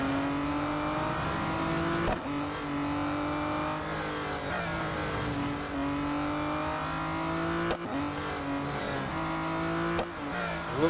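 An Aston Martin Vulcan AMR Pro racing in Real Racing 3, its engine note droning loud and continuous, climbing in pitch and dropping sharply at each gear change.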